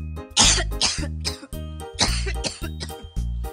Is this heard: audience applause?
no